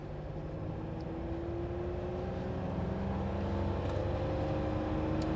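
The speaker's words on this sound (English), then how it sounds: "Foot to the floor, it's just changed down a bit." Steady, moderately loud engine drone from a Humber Super Snipe under full throttle, revs held with a faint rising tone and continuous road and wind rumble, no voices.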